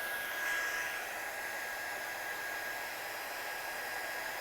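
A hair dryer blows steadily and close, drying puddles of ink on a handmade craft card, a continuous broadband whoosh with a faint high whine, running unbroken with no talking.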